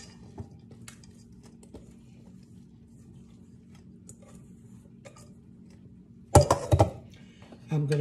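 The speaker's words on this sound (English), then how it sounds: "I'm adding them all into the main bowl, and the pears" Chopped apples and pears tumble into a mixing bowl in a short clattering burst near the end, after a stretch of quiet kitchen background with faint scattered clicks.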